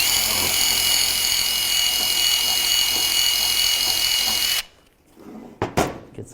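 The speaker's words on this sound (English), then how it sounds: "take some type of wire brush and just clean this out" A wire brush cleans brake parts with a loud, steady, whirring grind that cuts off abruptly, followed by a few faint knocks.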